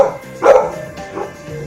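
A dog barks twice in quick, short bursts, close and fairly loud, with quiet gaps between the yaps.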